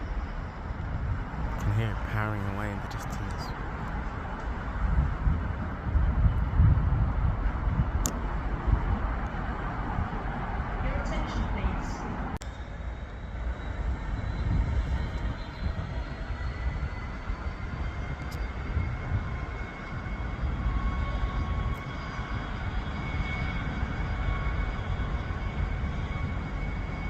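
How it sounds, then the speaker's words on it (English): A Class 180 Grand Central diesel train powering away into the distance from Peterborough on the East Coast Main Line toward London King's Cross, a faint, continuous low rumble with scattered higher tones under a speaking voice. "Hear it powering away in the distance."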